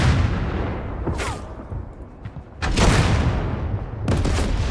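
Tank guns in the Total Tank Generals strategy game fire on an anti-tank gun: two loud, sharp booming shots a few seconds apart, the second followed by a third, each ringing out over a steady rumbling battle bed.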